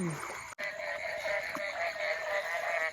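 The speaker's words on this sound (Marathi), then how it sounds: "बेडकांचा आवाज बघा" Frogs croaking beside a river in the first rains, a dense steady chorus of calls close by with a brief sharp click near the start, no voices.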